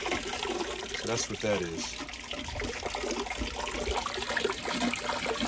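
Small tabletop fountain pump sputtering erratically in a low reservoir, water gurgling and trickling in uneven bursts close by, with a person talking over it.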